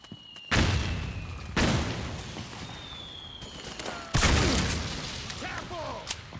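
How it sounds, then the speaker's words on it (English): Grenade and gunfire blasts boom repeatedly in the PS3 game Metal Gear Solid 4: Guns of the Patriots, three loud explosions with decaying rumbles over battlefield noise and shouted voices. "Grenade!"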